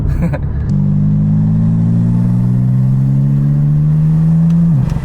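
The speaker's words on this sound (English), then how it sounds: "the exhaust note obviously just gets louder as we rev it out" A BMW F80 M3 fitted with titanium front mount intakes revs loud and close, its engine drone climbing steadily in pitch for several seconds before cutting off sharply.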